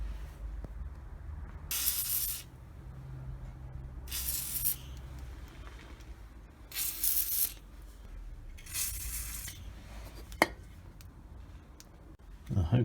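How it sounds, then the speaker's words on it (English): Four long hissing blasts from an aerosol can of WD-40 lubricant sprayed on bolts, close up, separated by pauses, with a faint metallic clink near the end. "I'm going to spray a load of WD-40 on them first"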